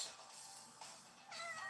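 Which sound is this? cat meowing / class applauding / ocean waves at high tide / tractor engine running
cat meowing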